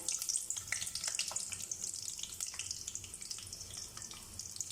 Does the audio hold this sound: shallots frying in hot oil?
yes